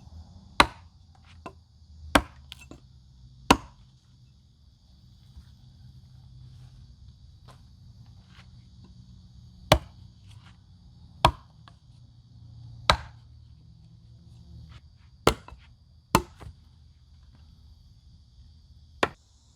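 A hatchet chops wood resting on the ground in sharp, isolated strikes, about a dozen irregularly spaced cracks, close and loud against a quiet outdoor background.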